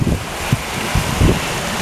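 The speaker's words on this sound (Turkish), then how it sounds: "Mudanya'da müthiş fırtına." Storm wind and heavy rain in Mudanya roar in a dense, steady hiss with low gusty thumps, loud and close.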